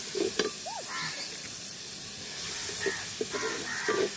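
Onion frying in mustard oil makes a steady, close hiss and sizzle that never stops, with small pops and faint scattered background sounds.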